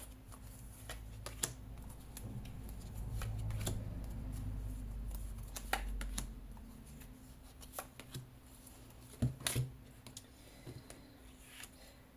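Tarot cards being drawn from a deck, five in turn, giving soft papery shuffles and slides with a few sharper card snaps, close and quiet against low room hum, with no talking.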